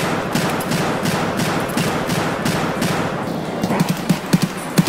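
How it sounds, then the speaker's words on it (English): Gunshots in Escape From Tarkov, a steady run of rapid automatic fire with evenly spaced cracks, followed by louder, punchier single shots toward the end, close and dominant. "I just shot him all those times and he'd die."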